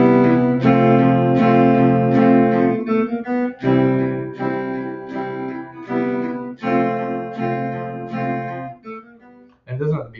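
Guitar picking out gentle chord embellishments in a beginner-level piece, a series of ringing strummed chords with bridging notes between them, played solo, fairly close and clear.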